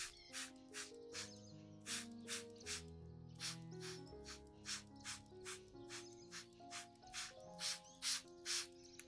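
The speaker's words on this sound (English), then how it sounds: "Misting with the orange peel and molasses solution helps clean dust from the leaf surfaces" A spray bottle mists peace lily leaves with an orange peel and molasses solution, giving about twenty short, breathy hiss bursts in a steady rhythm, close by, over soft background music.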